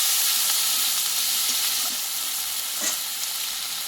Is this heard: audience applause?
no